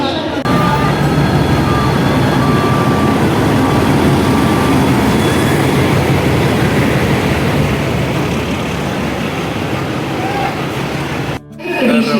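A loud, steady rumble and hiss of the Chennai Mail express train standing at platform 10 of busy CSMT station in Mumbai, with a constant wash of station noise.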